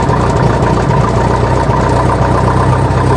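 A Cessna Cardinal's piston aircraft engine idles steadily just after start-up, leaned out and warming up, a loud, even, throbbing drone that runs unbroken throughout.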